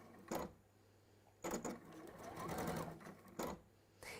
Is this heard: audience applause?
no